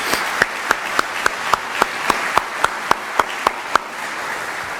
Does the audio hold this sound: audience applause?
yes